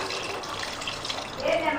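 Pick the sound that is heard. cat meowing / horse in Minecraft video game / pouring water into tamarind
pouring water into tamarind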